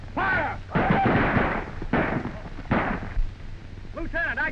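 Soldiers fire rifle volleys in a 1936 western film about Custer's last stand, each loud crack-and-boom burst landing in turn amid shouted commands on an old, band-limited soundtrack.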